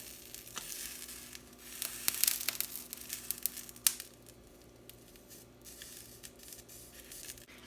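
Corn on the cob sizzling over a grill, a soft steady crackle and hiss with brief crinkling bursts near the start, close and quiet, with no voices.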